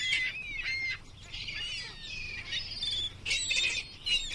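Tropical birds calling around Ha Long Bay in Vietnam, a mix of high chirps and whistled phrases coming in bursts at moderate distance, with no one speaking.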